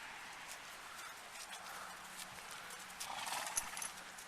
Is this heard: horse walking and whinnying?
yes